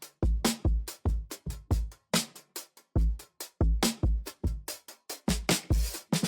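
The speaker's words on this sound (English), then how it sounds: "the first thing I did was drag in this drum break" A vintage soul drum break plays at 71 BPM, punchy kicks and crisp snares hitting in a tight, loose-swung pattern with dry cymbal wash, loud and alone.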